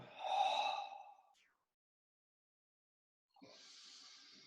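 Breath exhaled slowly through the mouth during an abdominal and pelvic-floor breathing exercise, a soft airy sigh followed after a pause by a second quieter, hissing exhale, close and alone.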